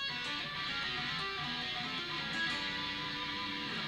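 Fast, dense electric guitar notes run continuously for a few seconds, a quick lick from a solo played at speed with no talking.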